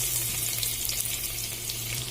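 Garlic frying in cooking oil in a pan, a soft continuous sizzle with faint crackles over a low steady hum, fairly quiet.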